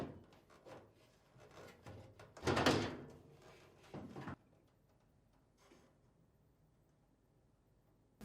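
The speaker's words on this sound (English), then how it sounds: "lift up on the panel to release it from these two retaining tabs" A Samsung dryer's front panel is lifted free of its two retaining tabs, giving a couple of short, loud plastic clunks and rubs amid quieter handling sounds, then near silence.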